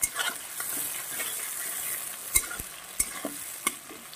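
Chopped onion, tomato and two green chillies frying in a pan for a broccoli dish, a soft continuous sizzle with a few scattered taps and scrapes of a spoon.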